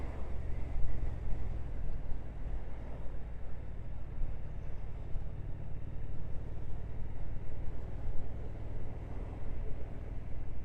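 Triumph Speed Twin 1200 motorcycle engine running while riding, a deep, steady low rumble with constant wind roar across the whole stretch, no talk over it.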